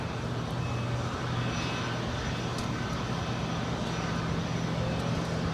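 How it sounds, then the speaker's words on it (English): A Delta Boeing 757 charter with no winglets, inbound from Sacramento, arrives at LAX: a steady, moderately distant jet engine rumble and roar that holds evenly throughout, with no talking. "This is one of those Delta 757s that is a charter"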